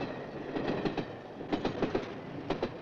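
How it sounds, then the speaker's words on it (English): A train passing a level crossing, with rhythmic clickety-clack bursts of wheels over rail joints in uneven clusters, fairly close and moderately loud over a steady rumble. "it won't be long before the train zips by"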